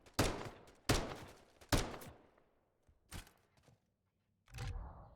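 Pistol shots ring out in an esports video game match, several loud, close single reports spaced about a second apart, each with a short echoing tail.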